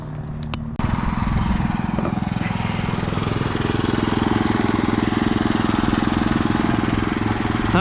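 The small engine of a line striping machine is started on a hot day and settles into a loud, close, rapid putter that runs steadily after a brief rumbling lead-in.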